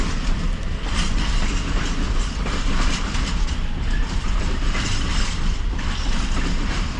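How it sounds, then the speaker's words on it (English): A freight container train rolls past on a rail line near the Adriatic Sea, making a loud, steady rumble with rhythmic clickety-clack of wheels on joints that lasts throughout. "when the container train passed"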